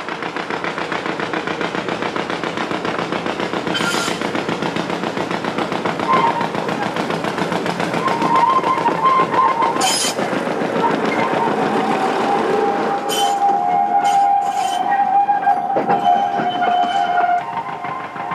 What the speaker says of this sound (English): The gradient out of the station is steep enough to test the locomotives.